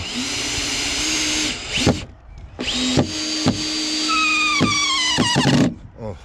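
A power drill drives long screws into a wooden board for lintel formwork, its motor whining steadily then slowing and rising in pitch as each screw bites, with sharp knocks between runs.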